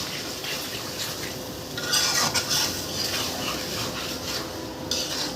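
Chicken pieces being stir-fried in a pan for a home-cooked chicken curry, with steady scraping and stirring over a soft sizzle, a few clinks of utensil on metal, close and continuous with no talking.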